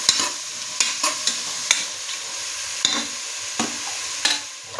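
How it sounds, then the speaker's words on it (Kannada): Onions fry in a pan with a steady background sizzle while a utensil stirs and scrapes through them in regular strokes, roughly every half second, close and clear with no talking. "ಈರುಳ್ಳಿ ಸ್ವಲ್ಪ ಚೆನ್ನಾಗಿ ಫ್ರೈ ಆಗಿ"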